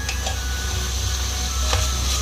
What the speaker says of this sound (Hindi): इसको अच्छी तरह से हम भून लेंगे ऑयल में